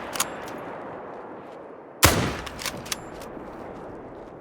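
A hunting rifle fires a single sharp, loud shot at a fallow deer in theHunter: Call of the Wild, cracking over a quiet outdoor ambience and then trailing off in a rolling echo.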